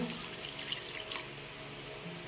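Water runs and splashes steadily for a couple of seconds, a soft continuous pour into a cooking pot of sautéed vegetables, fairly quiet and close.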